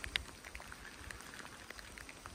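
Rain during a rainstorm falling around a swale draining impervious surfaces: a faint, steady wash of patter with scattered soft drip ticks, distant and low, with no voices.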